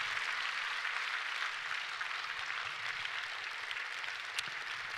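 Church congregation at a Korean Sunday service applauding graduating missionary trainees, a soft, even, distant patter of many hands that holds steady for the full stretch.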